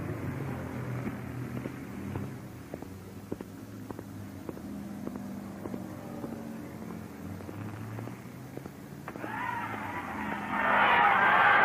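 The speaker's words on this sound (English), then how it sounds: "A 50's Chevrolet piloted by G.C. Spencer, car 48, zooms into that fourth turn guardrail." A field of 1950s stock cars races around a track, including a 1950s Chevrolet that slams into the fourth-turn guardrail. Steady engine drone carries throughout, then a louder, harsh burst of noise swells over the last couple of seconds.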